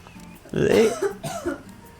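Someone coughs in a brief, throaty burst while recording a podcast, and a short rough rasp follows, close to the microphone.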